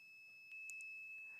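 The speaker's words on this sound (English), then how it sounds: "it is showing us an empty signal with a buzzer." A faint, steady electronic tone hums throughout while a water level monitor's buzzer alarm signals an empty tank with a few short, quiet beeps in quick succession.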